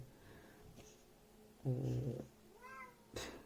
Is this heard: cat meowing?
yes